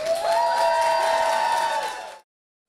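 Outdoor crowd at a Relay for Life event at Gaston College cheering and whooping for the event sponsors, a loud sustained burst of shouts that cuts off abruptly after about two seconds.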